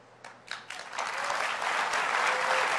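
Applause from the keynote audience at Apple WWDC 2015 starts with a few scattered claps, then swells into broad, steady clapping across a large hall.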